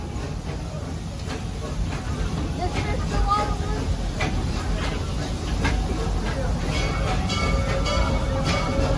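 The Serengeti Railway train at Busch Gardens Tampa rolls steadily along with a continuous low rumble, rattling and occasional clicks of the rail cars, while a narrator speaks over a loudspeaker.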